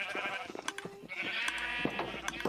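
Sheep in Minecraft bleat several times in quick succession, wavering cries standing out over quiet background sounds.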